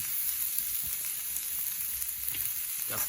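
Capsicum frying in a pan for Bengali-style chowmein, a continuous hissing sizzle close by with a few faint stirring clicks.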